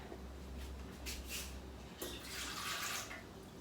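Warm water being poured into a bread maker in a home kitchen, a short steady trickle and splash close by, with faint kitchen noise and no talk.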